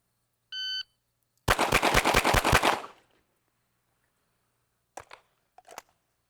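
Six rapid tactical rifle shots crack in quick succession during a low-ready qualification drill on a range, loud and close, preceded by a short electronic start beep and followed by a few faint clicks.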